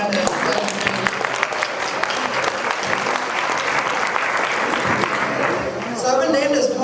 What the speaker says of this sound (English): If you guys want to clap for Anna.